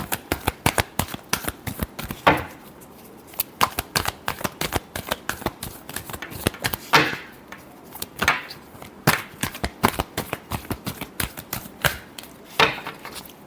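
Tarot cards being shuffled by hand, a rapid run of crisp flicking riffles close up, broken by a few short pauses and louder shuffle bursts, with no talk.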